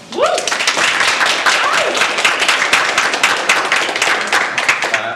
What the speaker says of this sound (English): let's give a round of applause to the Visual Discourse Roundtable